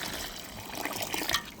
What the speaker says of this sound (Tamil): தண்ணி ஊற்றுறீங்களா அரிசி உடைக்கூடாது